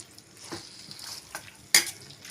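Spoon stirring a thick potato gravy in a pan after water is added, with soft scraping strokes, light sizzling, and one sharper clink of metal near the end.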